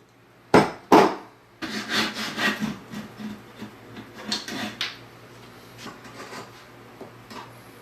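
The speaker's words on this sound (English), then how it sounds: "I do sometimes vary the way I clean out the space between the tails, sometimes with a coping saw, sometimes with a chisel, usually both." Hand woodworking on a portable workbench: a coping saw and chisel clearing waste between dovetail tails, heard as two sharp knocks followed by bursts of rasping strokes and scraping on wood, close and alone.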